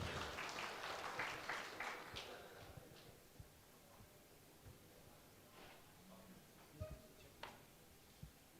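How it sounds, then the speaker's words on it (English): An audience at an international diabetes and obesity congress applauds, loud clapping at first that thins over several seconds into scattered claps and faint room noise. "With a huge round of applause"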